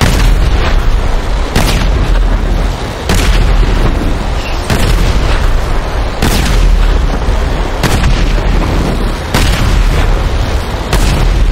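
Tank cannon fire and explosions in GTA 5: a loud, dense barrage of booming blasts repeating roughly every second or so, with sharp broadband bursts over a constant rumbling roar.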